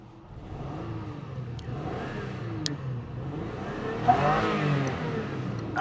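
A worn, cheap Toyota Camry with a rattling rear suspension, its engine revved hard and held high in a steady droning whir that swells toward the end.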